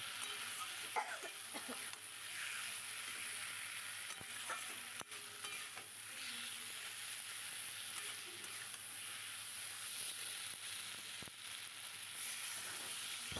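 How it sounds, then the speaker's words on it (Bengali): Puti fish curry with potatoes sizzles and fries in a pan over a village-style fire while being stirred, a steady close crackling hiss with occasional scraping clicks. "তো দেখো ভালো করে কষিয়ে নিচ্ছি।"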